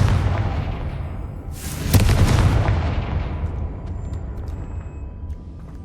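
A Confringo fire spell detonates in Hogwarts Legacy as a loud explosive blast with a sharp burst near the two-second mark, then a long rumbling decay that slowly fades over several seconds, with no talk over it.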